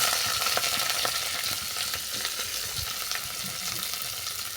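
Chopped onion dropped into a pan of browned garlic, frying with a steady, dense sizzle and crackle throughout, close and fairly loud, with occasional stirring noises and no talking.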